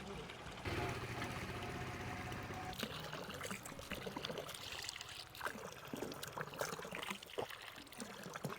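Cold, fresh drinking water trickles and pours steadily in the background while people talk nearby at Munnar, the flow continuous throughout.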